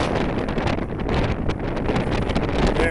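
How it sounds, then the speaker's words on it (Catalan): Strong gusting wind on a mountain summit in the Pyrenees (Puigmal), roaring steadily and loudly across the microphone with swirling, rushing surges and no pause throughout. "Un torbellino."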